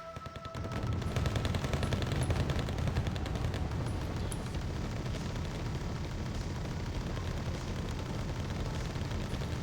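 Heavy gunfire and artillery, including an M1992 self-propelled gun, rumble in a war strategy video game battle, a dense, continuous roar of rapid shots and booming blasts that starts abruptly and stays loud throughout.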